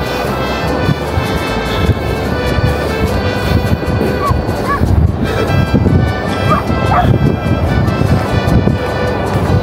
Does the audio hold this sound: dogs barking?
yes